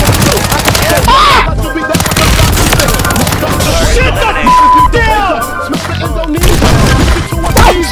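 Loud, sustained gunfire from a weapon in the video game Warzone, with dense rapid shots and bursts running throughout amid impacts and game effects, while players talk over it.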